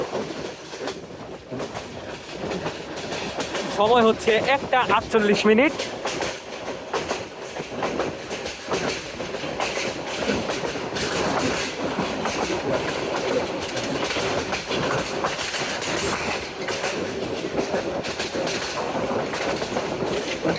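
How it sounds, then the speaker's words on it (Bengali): The Jamalpur Express passenger train rumbles steadily along the rails past Krishi Bishwabidyalay railway station, with rhythmic clatter throughout, while a voice briefly speaks over the noise near the start. "আমাদের ট্রেনটি এখন কৃষি বিশ্ববিদ্যালয় রেলওয়ে স্টেশন সুপাস করে যাচ্ছে"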